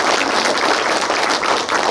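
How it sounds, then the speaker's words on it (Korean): Audience applause at a county governor's New Year district visit in Dongmyeong-myeon, Chilgok, a steady dense wash of clapping filling the whole span without pause. "박수 한번 드립시다"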